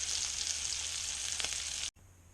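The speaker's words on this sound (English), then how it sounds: "So you can see this butter now is foaming up nicely and starting to brown." A venison loin fries in foaming, browning butter with a loud, steady, close hiss that cuts off abruptly near the end.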